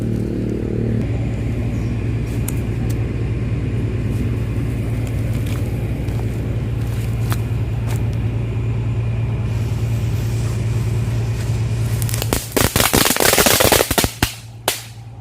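Cabai rawit firecrackers go off in a loud burst of rapid crackling pops near the end, following a long stretch of steady engine-like background rumble.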